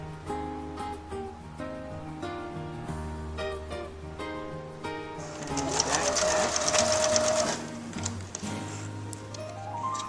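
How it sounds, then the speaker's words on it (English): A home sewing machine set to 15 stitches per inch hums and ticks steadily while stitching an embellished skirt for an 18-inch doll, close up, with the speed rising and the whir growing busier partway through. "As you sew, make sure to remove the pins and just slow down."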